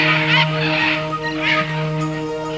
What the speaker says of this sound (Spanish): los chillidos guturales de los loros